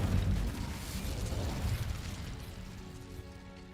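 An Incendio fire spell from the Hogwarts Legacy video game erupts in a loud, close burst of fiery roar that fades over a few seconds.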